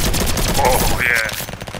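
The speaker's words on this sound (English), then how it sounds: "You can actually shoot it quite rapidly if you've got the click." Rapid bursts of raygun fire in the Roblox game Flag Wars, a fast series of synthetic zapping shots that run loud and continuous, with a couple of rising tonal blips partway through.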